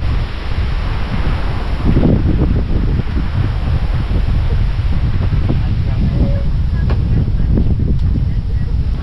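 Strong wind buffets the microphone in a steady, heavy roar throughout, with faint rustling and occasional knocks in the background.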